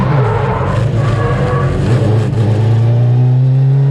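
A Smart car fitted with a Hayabusa engine revs hard on a race track, a loud continuous engine drone rising and falling in pitch with no one speaking.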